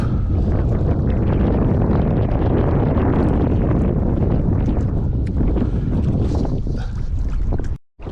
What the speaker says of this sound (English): the wind has slowed down a little bit again